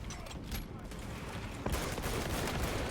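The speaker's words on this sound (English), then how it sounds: "And there is the main damage of the heavy bolt pistol." Heavy bolt pistol firing in Space Marine 2 during an assault build match, a dense run of rapid gunfire bursts with a louder blast near the end, continuous and close.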